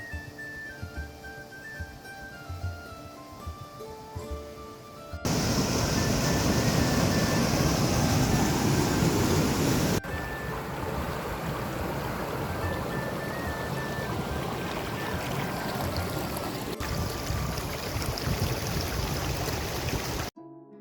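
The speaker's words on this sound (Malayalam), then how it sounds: "വെള്ളച്ചാട്ടത്തിന് മുകളിൽ നിന്നും വെള്ളച്ചാട്ടത്തിൻ്റെ ഒഴുക്ക് കാണാൻ എന്താ അല്ലേ ഭംഗി" A waterfall in Idukki district, flowing low after days without rain, roars as a loud, steady broadband rush, preceded by a few seconds of music before the water noise takes over.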